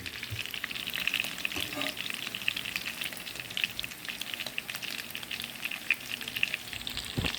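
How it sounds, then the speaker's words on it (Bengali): Meat frying and braising in a pan until browned: a dense, steady sizzle and crackle with stirring scrapes mixed in, close and continuous throughout. "এখন প্রায় প্রায় শেষের দিকে আমাদের রান্নার মাংস কষানো এবং ভাজি করা"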